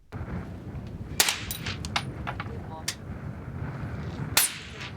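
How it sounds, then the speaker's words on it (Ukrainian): Sharp gunshots crack out at a military training shooting range, two loud ones and several fainter pops, over constant rumbling outdoor noise. "Обравши свої мішені, починають стріляти."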